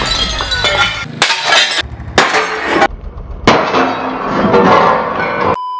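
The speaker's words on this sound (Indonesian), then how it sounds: "Dua kaca hancur guys" A shotgun blast shatters thick glass panes, several loud crashing breaks separated by short gaps, each followed by ringing, clinking shards close by.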